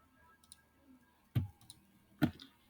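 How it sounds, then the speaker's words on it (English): Two sharp, close computer mouse clicks about a second apart, with a few faint key taps before them, in an otherwise quiet room. "single click"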